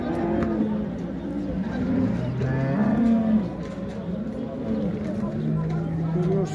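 Breeding cows at a busy livestock market in Şarkışla moo repeatedly, with several drawn-out calls overlapping close by amid crowd chatter and people talking.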